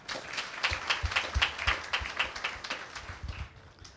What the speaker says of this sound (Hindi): भाई, एक ही आदमी ने ताली बजाई।